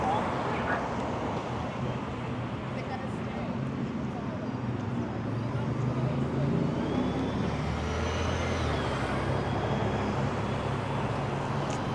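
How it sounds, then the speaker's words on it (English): Busy road traffic on Queen's Park Crescent West in Toronto, with cars, trucks and buses passing in a steady continuous roar and a faint hiss of air brakes. A voice speaks over it now and then. "Pretty busy here, traffic-wise anyway."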